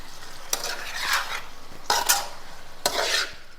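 Chicken being stir-fried with masala in a pan, a spoon scraping and stirring in three distinct sweeps over a steady low sizzle, close and clear with no talking.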